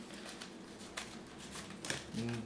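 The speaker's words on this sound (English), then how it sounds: "I'll just do a quick wash. It's because it's kind of hard to shuffle with fewer cards." A small Book of Thoth tarot deck is wash-shuffled, the cards swished and mushed around on a surface in soft, close, irregular papery rustles.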